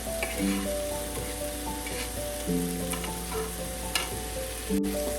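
Chopped tomatoes and green chili sizzle in a fried onion-garlic-ginger tempering for Punjabi arbi curry, with a continuous frying hiss and intermittent stirring scrapes over soft background music.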